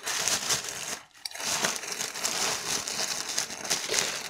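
Plastic packaging bag crinkling and rustling while a Lenovo K3 phone parcel is unboxed, steady close crackling handling noise with a brief pause near the start.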